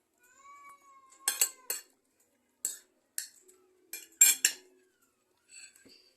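Four house cats meow several times in short, separate calls around a Filipino home meal of nilaga soup, with clinks of spoons and bowls between them, close and fairly quiet.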